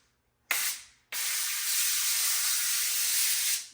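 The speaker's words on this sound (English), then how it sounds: "First thing I'm gonna do is spray a little cooking spray." Two hissing bursts from an aerosol can of cooking spray onto a smoker rack: a brief spray, a pause, then a longer steady spray lasting a few seconds.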